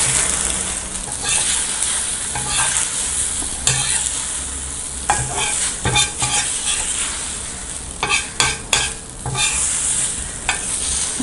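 An egg mixture frying in a little oil in a pan, with a steady loud sizzle and frequent sharp scraping and stirring clicks as it is turned. No voices are heard.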